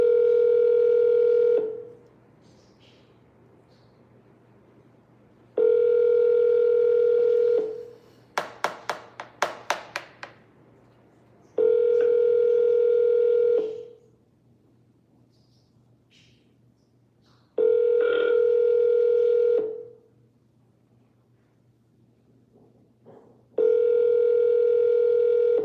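An auto dialer's telephone line plays a steady, loud ringback tone in repeated beeps of about two seconds each, separated by long silent gaps, with a brief burst of rapid dialing clicks partway through.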